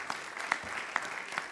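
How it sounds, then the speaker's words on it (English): An audience claps warmly after a kirtan at a Gaura Purnima festival, a dense, even patter of hands filling the room for a brief moment. "please give them a warm round of applause"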